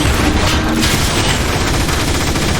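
Weapons firing during a battle in the Transformers War for Cybertron video game, a dense continuous barrage of blasts and booms, loud and unbroken throughout.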